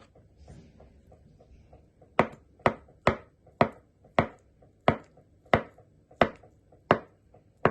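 A knife chops two eggs on a board for a radish salad: about eleven sharp, evenly spaced chops, close and distinct, starting after a brief quiet stretch with faint handling sounds.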